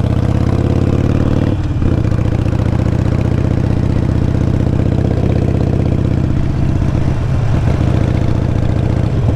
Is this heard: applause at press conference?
no